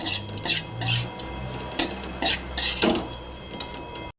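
Bitter gourd lemon fry being scooped from a pan into a bowl, a series of close metallic scrapes and clinks of a utensil against cookware at an uneven pace, with no voices.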